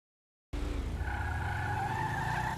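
A stock, rear-wheel-drive Bravado Buffalo in a video game starts with a sudden onset, then holds a steady, low engine drone with a faint higher whine on top, with no talking.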